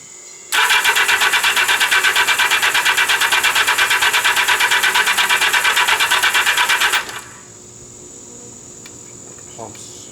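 A 1979 Yamaha XS1100 F motorcycle with the choke on and dry carburetors cranks on its starter: a loud, even, rapidly pulsing whir runs for about six seconds, then cuts off abruptly into quiet without the engine catching.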